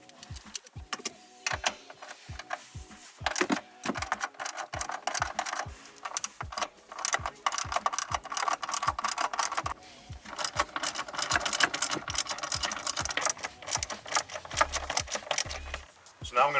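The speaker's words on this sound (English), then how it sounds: "Now I'm going to remove the 4 bolts that hold the housing into place." A ratchet works rapidly and steadily in close-up, loosening the 12 mm bolts that hold the shifter housing of a 2019-or-later Hyundai Veloster N, with brief pauses between runs of clicking.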